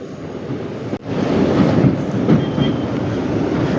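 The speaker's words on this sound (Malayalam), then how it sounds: "പാലത്തിന് മുകളിലൂടെ ട്രെയിനിൽ പോകുമ്പോഴും നല്ലൊരു ശബ്ദമാണ്" A train crosses the Pamban bridge toward Rameswaram, a steady loud rumbling roar of wheels on the span building after a sharp knock near the start.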